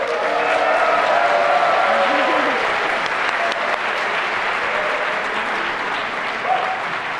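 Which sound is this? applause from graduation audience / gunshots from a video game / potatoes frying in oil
applause from graduation audience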